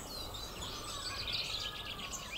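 Spring birdsong drifts in faintly from a distance, several thin whistling and chirping calls overlapping over a soft, steady outdoor hiss.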